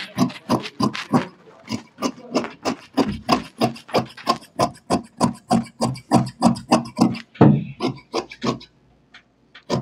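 Scissors cut fabric for the back piece of a sewn garment in a steady run of about two dozen crisp snips, close and even in rhythm, with a brief pause near the end before a few final cuts.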